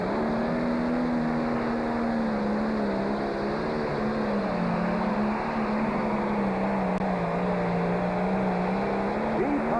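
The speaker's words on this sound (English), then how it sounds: "National Tractor Pulling Championship." Pulling tractor engine at a national tractor pulling championship, a loud sustained roar with a steady low drone that wavers slightly in pitch, heard continuously without pause.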